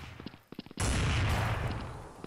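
Sniper rifle shot in the video game Blood Strike, a single loud blast that cuts in abruptly after some light clicks and handling noises, then rings out and slowly fades over a second or more.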